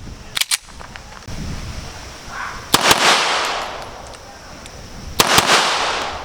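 An Armscor 1911 Classic pistol fires three pairs of rapid double-tap shots from 5 meters on a range, each pair a sharp, loud crack followed by a quick second crack, spaced several seconds apart.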